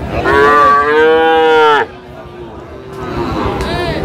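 A bull calf at a rural cattle market (hat) gives a loud, close, drawn-out moo. A fainter, lower moo follows over the murmur of the crowd.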